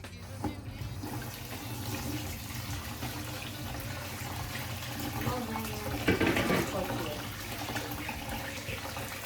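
Hot water runs from a tap over raw chicken in a kitchen, a steady rushing splash for about nine seconds, briefly louder and more spattery near the six-second mark.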